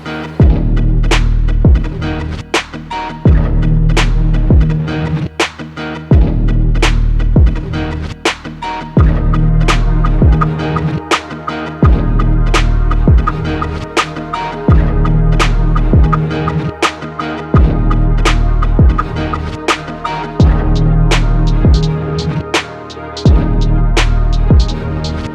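Air compressor running in a DTF print shop as it fills its tank, a loud, close, steady motor drone with a regular throbbing pulse repeating every couple of seconds, no talk over it.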